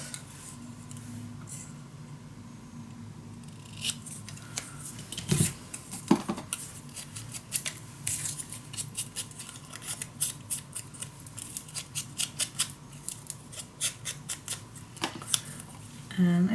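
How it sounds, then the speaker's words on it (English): Scissors snip through Graphic 45 scrapbook paper in a quick, irregular series of close, crisp cuts, some with light paper rustling and a few louder clicks, while someone talks softly over parts of it. "Let's cut it out."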